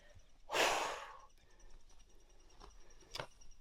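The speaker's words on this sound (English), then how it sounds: "It's my breathing." Heavy breathing on a brutal uphill hike toward a lake in rural northern New Mexico: one loud, close exhale followed by quieter, short breaths and faint sniffs.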